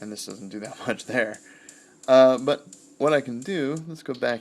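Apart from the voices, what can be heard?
No everyday noises stand out.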